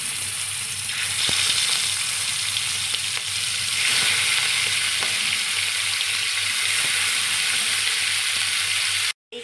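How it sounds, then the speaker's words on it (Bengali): Prawns sizzle steadily in hot oil seasoned with salt and turmeric in a heated kadai for a potol chingri dish, a dense continuous frying hiss close by, with a few light clicks and no talk. "তেলটাতে আমি নুন আর হলুদ একবারে দিয়ে দিলাম। এবারে মাছগুলো দেব একটা একটা করে।"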